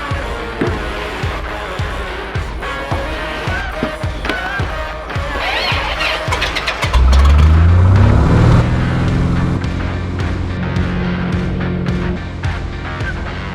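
A small private plane's piston engine drones steadily with a rhythmic low thumping, then swells into a louder, smoother roar partway through as power rises, close and continuous without speech.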